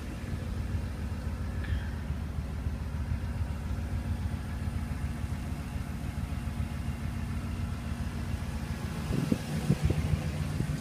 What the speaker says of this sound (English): easy cranking with fuel injection.